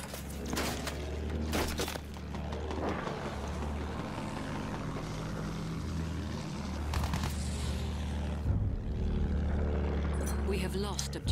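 Aircraft engine drone from a plane in Battlefield 1, a steady low propeller roar holding throughout alongside battle noise and crashes, with a voice talking over it.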